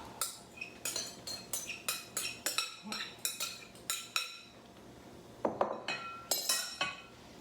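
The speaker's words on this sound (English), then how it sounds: "I'm gonna move this into a bigger bowl because my bowl was a little too small" Salad being moved into a bigger bowl, a quick series of bright clinks and knocks from a utensil against the bowl, about a dozen sharp taps, a brief pause, then a few more.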